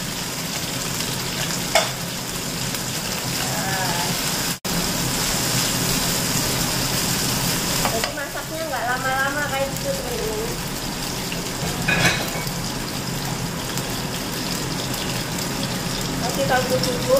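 Shrimp, spring onion and tomato sizzle and crackle steadily in a hot pan while being stirred for sambal tempe, with scraping and clinks of a utensil throughout and a loud close-up frying hiss.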